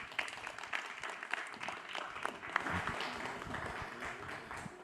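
Audience applause at a whiskey event, steady scattered clapping from a crowd, moderately distant and sustained without pause.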